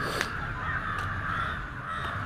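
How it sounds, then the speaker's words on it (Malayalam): Crow cawing near a church ground, a few harsh calls rising over steady outdoor background noise, fairly close and clear with no talking. "കാക്കാ"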